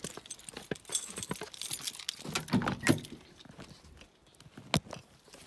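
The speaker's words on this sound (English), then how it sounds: "let me get my keys." A bunch of keys jangling as they are picked up near a Chevy S10 pickup, a run of bright metallic clinks and rattles in irregular bursts over several seconds, close and fairly loud with no talking.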